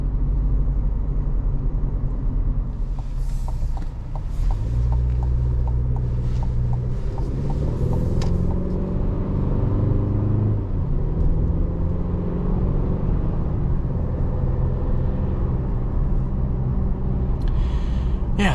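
A 2024 Chevy Colorado ZR2 truck accelerates on a main road at light to moderate throttle, a low engine rumble rising and shifting in pitch under constant road and cabin noise.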